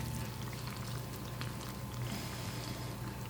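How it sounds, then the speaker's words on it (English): A soft, steady bubbling and sizzling hiss continues throughout as a boiling vinaigrette for cabbage salad is poured nearby. "So here it is, still bubbling, and I'm adding now the mustard."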